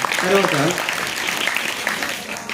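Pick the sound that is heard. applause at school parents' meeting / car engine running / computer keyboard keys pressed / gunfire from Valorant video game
applause at school parents' meeting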